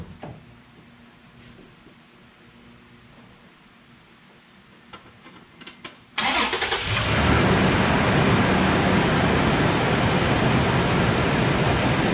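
A Toyota car engine sits quiet for six seconds, then starts abruptly and settles into a steady, loud idle.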